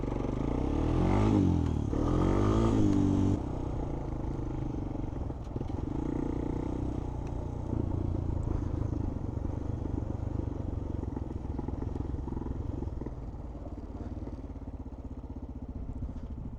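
A 2026 Honda TRX250X ATV engine idles and revs unevenly close by while being shifted into first gear, with a steady mechanical drone, brief throttle swells and faint clunks and rattles.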